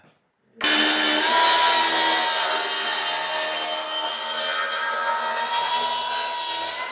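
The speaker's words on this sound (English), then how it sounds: "Oh, you've got your track saw." A track saw cuts through wood during a farmhouse renovation. It starts abruptly and then holds a loud, steady, close whine for several seconds without stopping.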